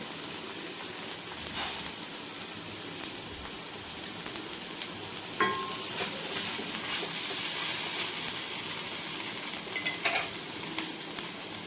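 Okra (ladies' finger) frying in a pan for a masala fry, a steady close sizzle with occasional stirring scrapes and clinks, no voices.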